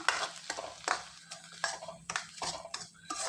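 A spoon scrapes and stirs powder being sautéed in ghee in a pan for a Navaratri offering, a series of quiet, uneven strokes over a faint sizzle close by.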